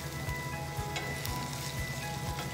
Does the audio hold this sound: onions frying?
yes